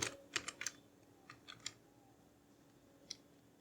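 Quiet computer keyboard typing in Excel, where month names are entered as a short burst of light clicks followed by a few scattered keystrokes, close and soft with no talking.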